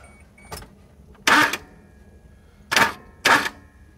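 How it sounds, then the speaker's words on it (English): An engine starter motor bumped in short bursts to rotate the engine for alignment, with three or four brief close whirring cranks separated by quiet pauses. "let's see if we can bump the starter, get her kind of close"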